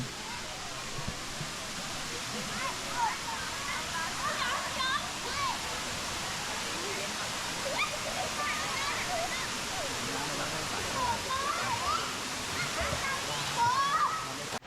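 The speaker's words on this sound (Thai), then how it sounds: "เดินมาอีกไม่กี่ก้าวก็ถึงน้ำตกชั้นที่หนึ่งแล้ว" Continuous broadband rush of the first tier of Erawan Waterfall in Kanchanaburi, Thailand, fills the scene, with faint voices of people chatting and calling nearby.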